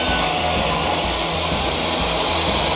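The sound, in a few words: table saw making a crosscut with miter gauge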